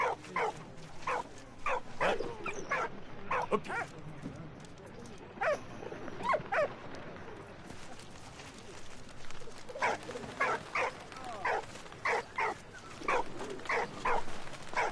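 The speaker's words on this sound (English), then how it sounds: "I need to get the dog to come away." A dog barks repeatedly in the World War I video game Valiant Hearts, short sharp barks coming in clusters with brief pauses between them, along with some whimpering and bird cooing over quiet game ambience.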